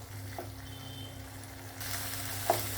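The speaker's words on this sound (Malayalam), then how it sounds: "എടുത്തു വെച്ചിരുന്ന ടൊമാറ്റോയുടെ പേസ്റ്റ് ഇട്ട് കൊടുക്കാം. നല്ലോണം ഒന്ന് വഴറ്റിയെടുക്കുക." Tomato paste sautés in a pan with a soft, steady sizzle over a low background hum, and one brief clink of a utensil near the end.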